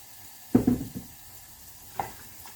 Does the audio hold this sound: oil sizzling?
yes